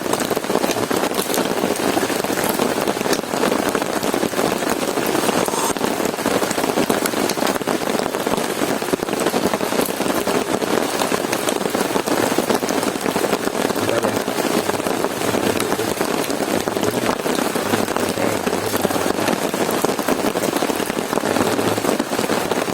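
Steady heavy rain hisses across the whole stretch at a campsite, a dense even wash of drops on surfaces with a faint low rumble underneath and no voices.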